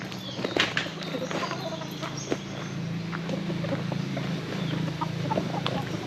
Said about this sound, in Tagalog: There's many chickens here.